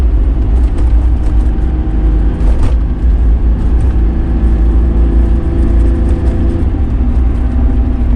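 A 1985 Porsche 928 pulls away with its engine running loud and steady up close, a continuous low drone with faint whirring throughout.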